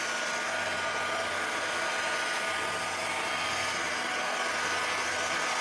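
Heat gun blowing hot air to shrink nylon wrap around a pack of bottles, a steady loud broadband whoosh with a faint low motor hum running continuously.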